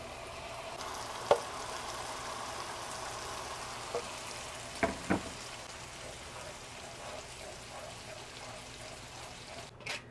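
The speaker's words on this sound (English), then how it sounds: "Now I'm going to add my salsa roja. I'm going to pass it through this sieve." Red salsa roja for chilaquiles rojos strained through a sieve into a hot pan, giving a steady, close sizzle and frying hiss with a few sharp clinks and taps over it.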